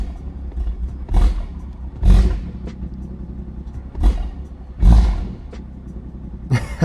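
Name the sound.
BMW B58 dual-clutch transmission and engine burbles while driving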